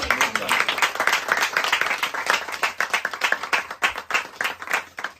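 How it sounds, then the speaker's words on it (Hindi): An audience at a business seminar claps loudly and steadily, a dense burst of applause for several seconds with a few louder individual claps standing out. "तो जोरदार तालियों के साथ हम बुलाएंगे।"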